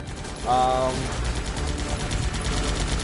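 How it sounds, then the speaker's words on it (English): Rapid automatic gunfire bursts in the video game Guns Up, a short loud volley followed by steady background battle noise, with a voice talking over it. "They're shooting like every structure but the one."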